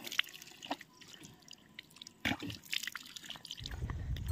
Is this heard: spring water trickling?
yes